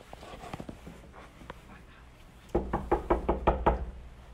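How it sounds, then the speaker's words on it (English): Hard knocking on a college dorm room door, a few scattered raps at first, then a loud, rapid burst of about six heavy knocks, close up. "He be knocking hard as fuck."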